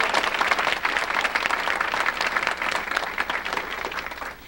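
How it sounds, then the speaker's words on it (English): Warm, steady audience applause at a City Club civic forum, a dense close wash of many hands clapping throughout that eases slightly toward the end. "let's please give them a round of applause"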